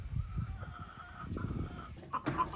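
Chickens cluck and call on a poultry farm in hot weather, fairly close and at low volume, over a soft rustling background. A sharper rooster-like cry comes near the end.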